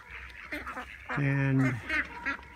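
Ducks quack loudly and nearby in a short, nasal burst, with a brief spoken word just before.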